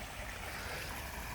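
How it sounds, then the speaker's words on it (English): Water drains out of shingle about three and a half to four inches deep on a path at Westcliff, making a steady, close rushing trickle with no talk. "the water's just pouring out of it"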